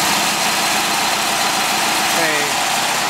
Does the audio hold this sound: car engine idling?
yes